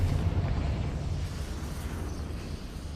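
A fiery Confringo spell blast in the Hogwarts Legacy game bursts into a loud, rumbling roar heavy in the low end, then fades slowly over a few seconds, with no voices.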